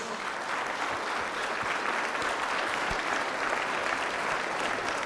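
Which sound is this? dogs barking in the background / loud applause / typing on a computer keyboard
loud applause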